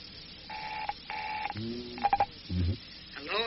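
Telephone line tones: two repeated electronic rings in short bursts, followed by a few clicks and brief muffled sounds, heard faintly as if through a receiver.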